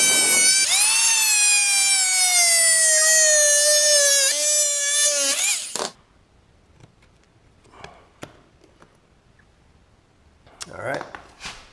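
A power cutter bites through an old lath and plaster wall to open a hole for an outlet box. It makes a loud, close, buzzing whine whose pitch sags for about six seconds, then stops, leaving near quiet with a few faint knocks.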